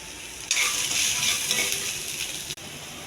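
Onions and carrots with ginger-garlic paste frying in a pan, a loud close sizzle with stirring scrapes that starts abruptly and runs steadily for about two seconds before cutting off, with no talk.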